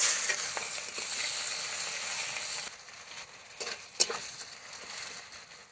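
Two onions frying in oil in a kadai with chilli and a bay leaf, a steady hiss that eases partway through, broken by a few clinks and scrapes of a utensil.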